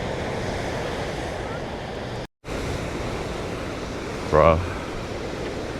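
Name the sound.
ocean waves breaking at Bronte Beach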